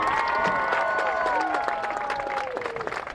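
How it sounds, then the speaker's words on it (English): A crowd applauds and cheers for the 2021 Spirit Week King at a high school football game, sustained clapping at a distance under a loud ringing public-address tone. "let's give a spirited round of applause to our 2021 Spirit Week King"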